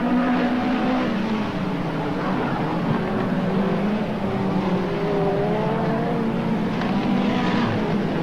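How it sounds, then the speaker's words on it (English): Midget speedcar engines roar continuously at a fairly loud level on a dirt track, several overlapping tones climbing and dipping as the cars jostle around. "Steve Brady has the fight of his speed car career on his hands at the moment now"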